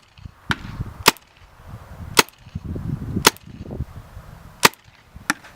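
A Tippmann paintball marker fires a handful of sharp, separate shots at uneven intervals, crisp pops over low background rumble and handling noise.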